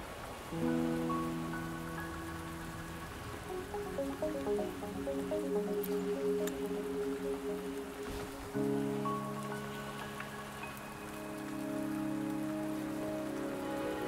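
Rain falling in the video game Wuthering Waves, a gentle continuous patter of drops beneath held musical chords, quiet and even with occasional brighter drips.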